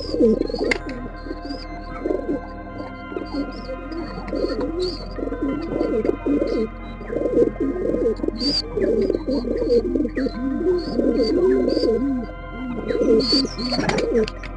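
Pigeons coo steadily in a loft holding kalodum and laldum breeds, overlapping rhythmic coos close by with occasional higher chirps, no talking.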